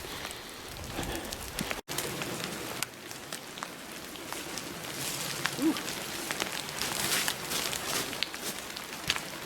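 Rain falls steadily in a steep forest, a soft constant patter on leaves and ground with scattered louder drips, fairly faint and close around the listener.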